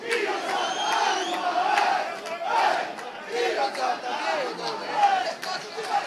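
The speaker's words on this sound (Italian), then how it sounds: "Continuano gli sfottò da parte di entrambe le tifoserie" Rival supporters at a local football derby chant and shout taunts from the stands, a dense, continuous crowd roar with rising and falling massed voices and occasional sharper cries, fairly close and loud throughout.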